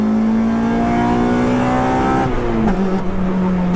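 A Honda Integra Type R DC2 engine revs hard in third gear, a rising, loud, steady howl heard from inside the car that climbs in pitch, then briefly dips as a shift cuts in.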